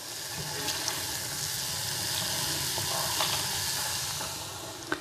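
Mushrooms stirred and seared in a pan give off a steady, close sizzling hiss, with faint scraping and stirring clicks breaking through now and then, plus a couple of sharp knocks at the end.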